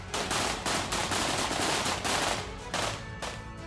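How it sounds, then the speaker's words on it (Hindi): Machine gun fire in war footage from fighting between Ukrainian and Russian soldiers: repeated bursts of rapid shots, sharp and dense, separated by short gaps and echoing over a noisy background. "दनादन तबाही मचाती इन गोलियों की थरथराहट को महसूस"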